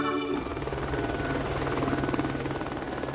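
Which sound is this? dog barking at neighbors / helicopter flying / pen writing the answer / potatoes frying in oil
helicopter flying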